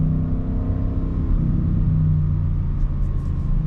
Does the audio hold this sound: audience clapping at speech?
no